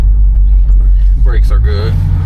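A 1973 Delta 88 rumbles low and heavy while driving on 22-inch wheels, a steady loud engine drone close by, with someone talking briefly over it midway.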